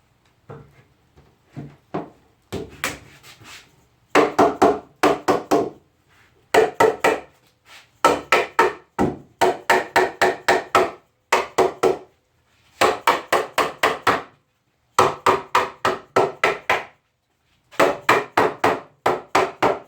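A wooden breadboard end is knocked onto a glued table top in repeated rapid bursts of sharp taps, mallet or hammer blows landing in quick clusters with short pauses between them, close and crisp.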